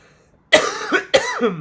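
Two sharp, harsh coughs close together, loud and near, after a moment of quiet.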